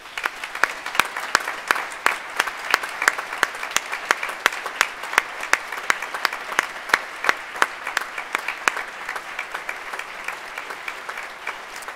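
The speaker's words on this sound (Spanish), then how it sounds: "les pido que se den un muy fuerte aplauso" Graduation audience applause, dense and sustained for the whole stretch, with sharp individual claps standing out from a steady roar of many hands in a large hall.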